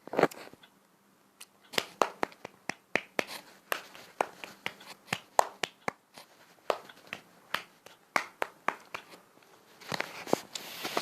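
At home, a child claps in scattered, uneven bursts, with single claps and short runs separated by brief pauses. The claps are sharp and close, picking up pace and getting denser toward the end, and no one speaks over them.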